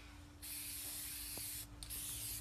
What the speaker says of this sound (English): I'm going to keep spray painting.